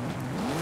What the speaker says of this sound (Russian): Опа, кто там газует?